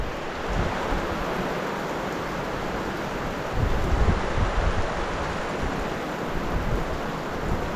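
Heavy rain drums down in a dense, steady roar. Low rumbling surges swell in the middle stretch and then ease back.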